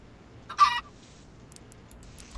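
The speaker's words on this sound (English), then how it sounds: "There's a chicken behind you." A chicken in Minecraft gives a short burst of clucking, followed by quiet and a faint second cluck at the end, with no talk over it.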